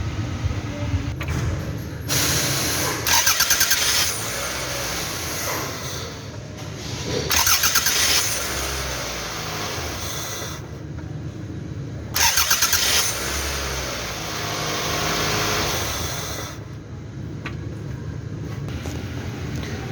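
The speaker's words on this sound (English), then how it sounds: "finally we installed the starter motor. So we have to put back in the battery. So for the start the car" Toyota Tarago 2AZ four-cylinder engine (2002 ACR30R) being started after a new starter motor is fitted: repeated bursts of starter cranking catch and settle into a steady idle, with no talking, close to the engine bay.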